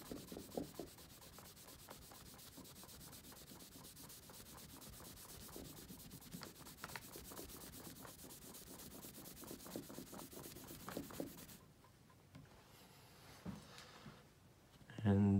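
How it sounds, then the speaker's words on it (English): A polishing cloth buffs guitar frets after Nomad FRINE fret polish, making a steady, close, rapid rubbing and scrubbing rasp that runs for about eleven seconds before fading to quieter handling noises. "And I'll buff it out."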